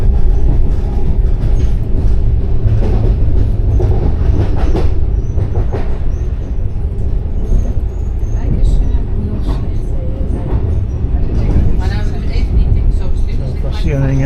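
Passenger train on the Pisa to Naples line rolling along loudly, a constant rumble with rhythmic clickety-clack of wheels and occasional squeals, steady for the whole stretch.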